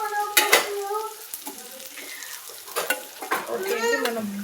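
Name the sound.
bitter gourd frying with chilli powder in pan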